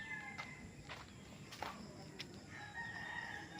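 Fighting roosters crowing at a training farm in Nagcarlan, faint and distant, with a few calls rising over steady outdoor background noise.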